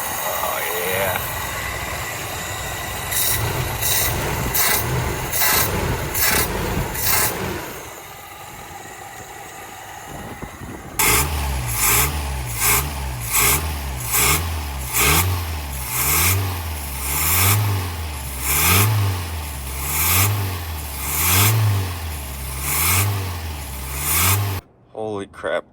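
A Toyota truck engine runs smoothly up close, idling at first, then revving repeatedly in rising and falling surges, with a person talking over it.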